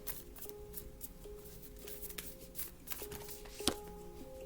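Moonology oracle cards being shuffled and drawn by hand, a soft steady riffling rustle with light taps and one sharper snap near the end, close and quiet with no talking.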